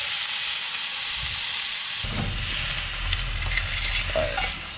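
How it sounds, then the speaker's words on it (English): Venison seared in a hot pan with butter, a steady loud sizzle that turns harsher and fuller partway through, continuous and close with no talking. "Just want to make sure we get a good sear."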